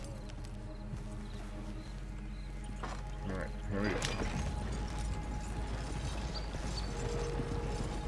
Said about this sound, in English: My horse is going to follow us if I don't.